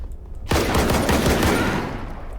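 A Saiga shotgun fires in S.T.A.L.K.E.R. with one loud, close blast after a short quiet lead-in. A long, rumbling reverberant tail fades slowly across the rest of the moment.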